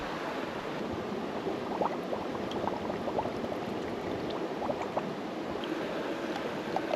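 Water from a forest stream trickles and gurgles steadily as a bottle is filled, a close, continuous broadband rush with small splashy bursts and no talking.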